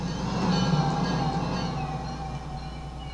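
Freight train rolling past with a single DPU locomotive at the rear, a steady low rumble with faint squeals and clanks, close but fading slightly, without talk.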